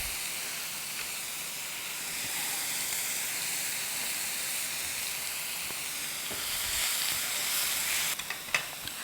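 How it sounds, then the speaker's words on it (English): Steady hissing sizzle of a vegetable filling with curry leaves being stir-fried in a pan, with occasional stirring clatter and a few sharper clinks near the end, no voices. "Put all this together and stir fry."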